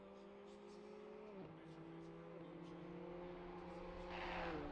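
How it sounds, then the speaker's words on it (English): BMW M2 race cars lapping Suzuka in a sim racing game, a fairly quiet steady engine drone with gear-change dips, a car passing and rising noise near the end. "sound of these BMWs is certainly a lot quieter than the roaring engine of the Porsche Cups"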